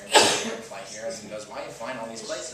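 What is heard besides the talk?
sneeze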